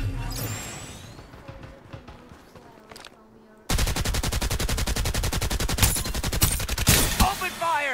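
Gunfire in the video game Farlight 84: after a quieter stretch of game sounds, a loud, rapid automatic burst erupts and runs continuously with sharp, evenly spaced shots to the end.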